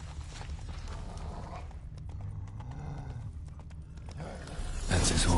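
Horse hooves clip-clop at a steady gallop in Witcher 3, a rhythmic, fairly loud run that continues throughout, with a snort or whinny near the start and a brief louder burst at the end.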